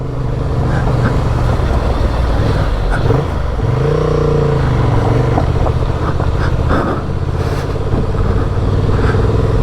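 A Honda Transalp motorcycle rides along a track, its engine droning loudly and steadily with rough wind and road noise, one brief shift of pitch mid-run, and no voices.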